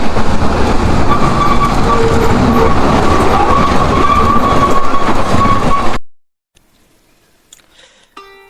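An amusement park train ride at Fantasy Kingdom runs on its rails with a steady rumbling clatter and wheel noise for about six seconds, then cuts off abruptly into near silence broken by a few faint ticks.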